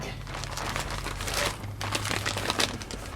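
A plastic bag of engine parts for a Briggs and Stratton engine crinkles and rustles continuously nearby as it is handled, with irregular louder crackles.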